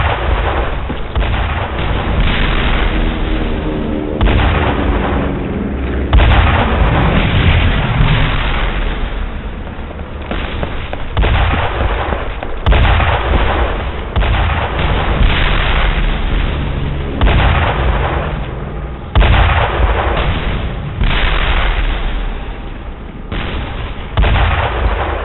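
Video game combat in Brothers in Arms: Hell's Highway, with dense, loud gunfire bursts and heavy explosion booms continuing almost without a break, rumbling low end throughout and no clear speech.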